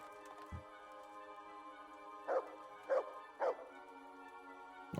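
A dog in a video game barks three times in quick succession, short sharp woofs standing out over a quiet electronic background tone, with a soft thump beforehand.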